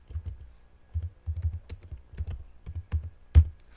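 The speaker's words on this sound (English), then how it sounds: "You press your tab on your keyboard to come down." Keystrokes on a computer keyboard during spreadsheet data entry, a close, uneven run of dull clicks with a sharper, louder tap near the end, no voices.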